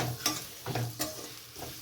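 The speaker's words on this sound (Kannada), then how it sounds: "ಒಂದು 5 ಮಿನಿಟ್ಸ್ ತಿರುಗಿಸ್ಕೊಂಡು" A spoon stirs amla pickle with jaggery in a pan, giving a few soft scraping strokes over a faint sizzle, close and fairly quiet with no voices.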